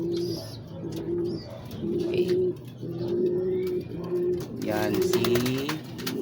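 Racing pigeons coo in repeated low, throaty phrases, close by and fairly loud, with a brief bit of speech and some higher chirps near the end.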